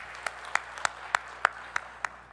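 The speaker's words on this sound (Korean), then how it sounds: "네, 큰 박수 하시겠습니다." Congregation clapping during a Sunday church service, heard as a series of separate, evenly spaced claps about every third of a second, fairly crisp and faint in a large reverberant room.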